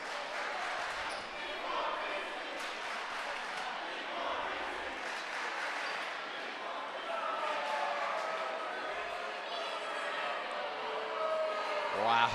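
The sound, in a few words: basketball crowd chanting "We want Reesing"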